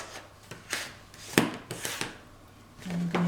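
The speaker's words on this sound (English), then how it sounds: "So I'll just burnish that down as well." A glued paper seam on a box is burnished by hand in a series of short, close rasping rubs and scrapes, irregular strokes with one sharper scratch, quiet and alone.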